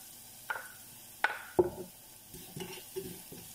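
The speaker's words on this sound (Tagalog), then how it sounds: "Binisa ko yung bawang mga kaastig" Garlic sautéing in a pan, scattered stirring scrapes and brief sizzling bursts at irregular intervals, close and fairly quiet.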